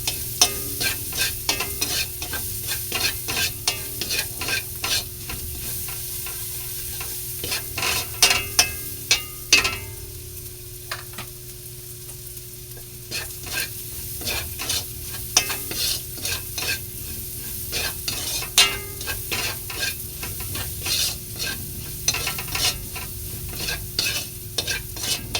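Garlic sizzles and fries in a pan for Filipino batchoy, with a steady hiss under frequent, quick spatula scrapes and taps that continue throughout, no voices.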